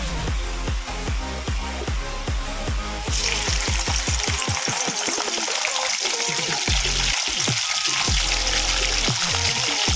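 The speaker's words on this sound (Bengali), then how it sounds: "দেখুন আমার তেল গরম হয়ে গেছে। আমি এবার তেলে ভেন্ডিগুলোকে ছেড়ে" Okra is dropped into hot oil for a Bengali okra and potato curry, setting off a loud, steady sizzle that fills the scene, with stirring and utensil scrapes clattering over it.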